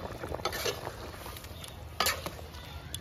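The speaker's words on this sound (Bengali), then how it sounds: "দেখুন কি সুন্দর ফুটছে" Chicken curry bubbles in a pot, a soft, close simmer and crackle with scattered spoon scrapes and a couple of louder clinks.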